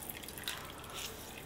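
Water draining and dripping through a cloth while straining for rasamalai, a faint soft patter of drips and trickle close by, no talking.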